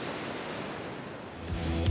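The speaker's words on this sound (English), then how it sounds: "when the waves are really crashing, it's such drama" Ocean surf rolling against large rocks in front of a Malibu house, a continuous broad roar of crashing waves with wind, swelling louder toward the end.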